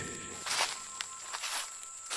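Animated footsteps through a dense sal forest at night, a few crisp crunching steps on leaves and undergrowth, close and distinct, separated by brief quiet gaps over a faint steady background tone.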